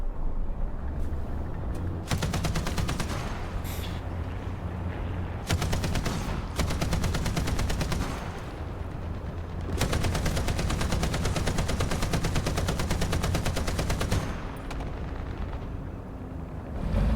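Heavy .50 cal machine gun fire in the indie real-time strategy game Dying Breed, loud sustained bursts of rapid shots in several long strings with brief pauses between them.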